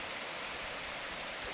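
Zem Zem Falls pours in a constant, dense rushing roar of falling water, steady and unbroken throughout, with no voices.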